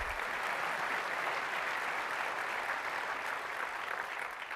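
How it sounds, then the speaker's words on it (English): An audience at Apple's WWDC 2008 keynote applauds steadily, a dense wash of clapping that holds at an even level and fades slightly at the end. "You can clap. It's OK."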